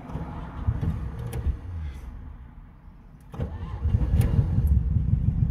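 An old car engine with the choke pulled halfway out cranks and whirs, falls briefly quieter, then catches at around the three-second mark and settles into a loud, rough, steady running note nearby.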